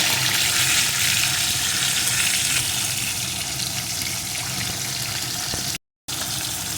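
Pomfret fish sizzling in hot oil in a pan for a mustard curry, a steady loud hiss and crackle that runs continuously, broken by one brief gap near the end.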